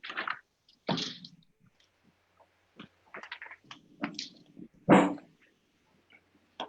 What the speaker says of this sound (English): I heard a dog. Yeah, it's my dog.